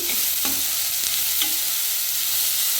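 Beetroot fries in oil in a pan with a loud, dense continuous sizzle, punctuated by a few brief stirring scrapes.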